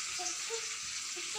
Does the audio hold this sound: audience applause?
no